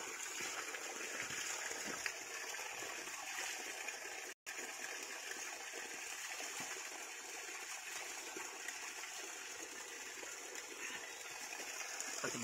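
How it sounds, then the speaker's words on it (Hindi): Steady rushing water flows continuously, a broad even hiss like a forest stream or small cascade running close by, with no voices. "क्या शानदार पानी आ रहा है, देखिए धारा।"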